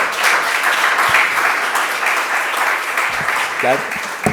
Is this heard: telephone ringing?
no